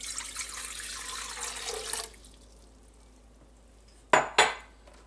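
Tap water runs steadily into a container for bread dough for about two seconds, then stops, followed by two sharp clinks of a vessel or utensil and quiet room tone.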